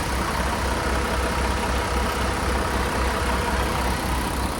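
A steady, rumbling Kenworth W990 truck with a 510 hp MX13 diesel engine idles continuously with a low, even drone and no changes in pace, close by and fairly loud.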